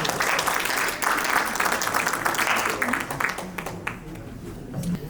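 An audience applauds with a thick wash of clapping that thins out toward the end, a voice speaking briefly over it.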